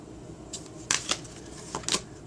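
Tarot cards are pulled from the deck and laid out on a surface, a few soft, crisp card snaps and slides in quick pairs, close and fairly quiet.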